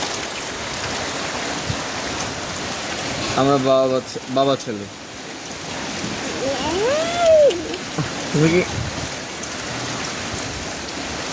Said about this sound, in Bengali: সকাল থেকে বৃষ্টি উপভোগ করছি।